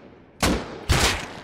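Two sharp, loud gunshots ring out about half a second apart in the survival video game Rust, each with a short echoing decay.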